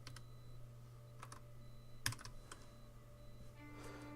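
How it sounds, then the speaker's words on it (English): An ID is typed on a computer keyboard: quiet, sparse key clicks in a short irregular burst with one sharper press midway, over a low steady hum. "so I type in my ID here."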